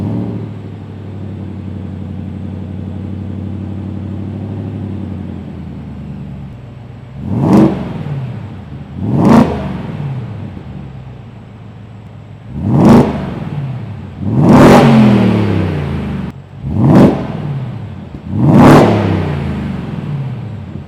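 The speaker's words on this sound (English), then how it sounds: "we have exhaust modes, which I'll cycle through right now, between quiet, which I'll never use, normal," Ford Raptor R pickup engine, 700 hp, idling steadily then blipped through about six sharp revs, each rising fast and dropping back to a rumbling idle, loud and close, with no talking.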